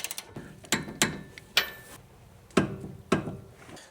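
A ratchet tightening the tie rod end bolts on an old BMW during a suspension rebuild, heard as short bursts of clicking spread unevenly across the clip, close and fairly quiet with gaps between strokes.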